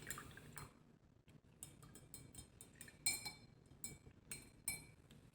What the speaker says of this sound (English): now I'm going to clean off this brush